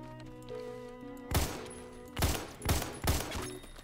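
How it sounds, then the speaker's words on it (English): Pistol fire in the first-person shooter game Phantom Forces, with four sharp, loud shots in quick succession over a humming game soundtrack. "I shot him three times."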